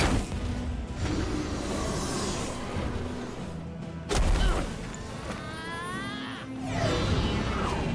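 A fire lance attack in the fantasy role-playing game Earthlock bursts with booming impacts and whooshing blasts, a sharp crash midway, then crackling, rising magical swirls under a continuous game soundtrack.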